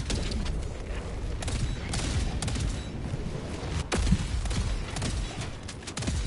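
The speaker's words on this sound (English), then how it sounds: "Firing orbital strike." Orbital strike barrage in the video game Helldivers II, a dense, continuous roar of explosions and rapid gunfire-like blasts with a few sharper booms standing out, loud and sustained throughout.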